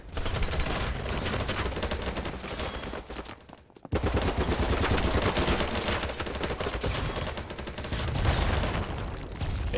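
Gunfire in the video game BattleBit, sustained rapid automatic shots in long rattling bursts with one short gap partway through, loud and close, amid other battlefield noise.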